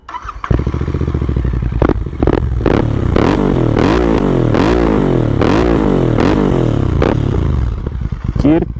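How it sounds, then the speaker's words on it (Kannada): Royal Enfield GT 650 motorcycle exhaust note, close and loud, with a rapid series of sharp throttle blips rising and falling over a throbbing idle. "ಇದರಲ್ಲಿರೋ ಸೌಂಡಿಗೆ ಬನ್ನಿ ಎಕ್ಸಾಸ್ಟ್ ನೋಟ್ನ ಕೇಳೋಣ"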